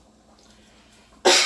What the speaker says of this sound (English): I am coughing into my shirt, by the way.